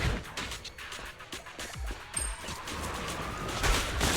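Boxes exploding in Zenless Zone Zero, a string of sharp pops and bangs at uneven intervals, moderately loud over busy game sounds and a low rumble, with no voices.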